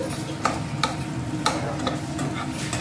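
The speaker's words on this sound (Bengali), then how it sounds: "তো এখন কড়াইতে তেল গরম করে পুরটাকে রেডি করে নিই" A stuffing of mashed boiled potato and peanuts fries in hot oil in a wok, a low sizzle under rhythmic scraping and clicking of a spatula stirring it.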